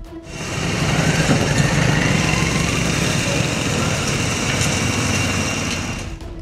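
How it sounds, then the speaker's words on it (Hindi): Cars and motorcycles jolting along a damaged main road in Lahore, heard as a steady, close traffic drone of small engines that holds level for several seconds. "अहम शाहराह पर हिचकोले खाती गाड़ियां और मोटरसाइकिल इंतजामिया की अदम तवज्जो की मिसाल हैं"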